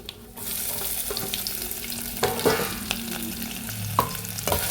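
Onions are stirred in hot coconut oil with mustard seeds and dried red chillies, a close, steady sizzle with intermittent scraping and clacking of a spoon against the pan.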